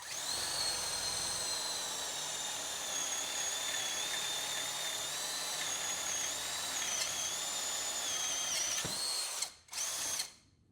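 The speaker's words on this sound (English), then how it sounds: "Let's just go ahead and drill something here for you." A compact power drill with hammer function whines steadily at a high pitch for about nine seconds, then stops abruptly, followed by a couple of short bursts.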